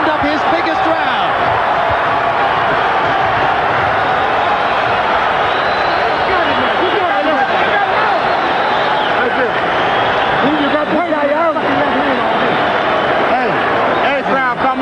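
A boxing crowd roars and cheers continuously through a fight between Trinidad and Whitaker, a dense, loud wash of voices with an announcer talking over it.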